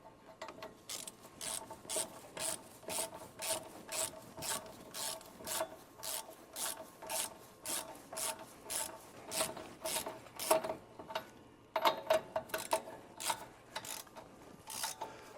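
A ratchet tightens a tie rod nut on a RAM truck with a steady series of rhythmic clicking strokes. The sound is close but fairly quiet, with a short pause before the strokes resume.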